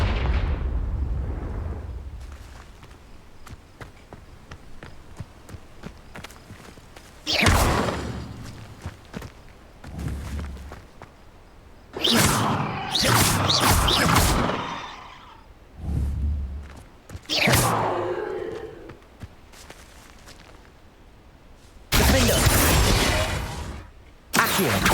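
Confringo explosion spells going off in the Hogwarts Legacy video game, several separate loud bursts spaced across the stretch with quieter gaps of ambient game sound between them.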